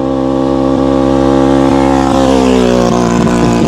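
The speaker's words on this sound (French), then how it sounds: "On va laisser passer la mobilette qui passe à fond." A small engine whines steadily, its buzzing pitch dropping as the moped speeds past close by at full throttle, in Thailand.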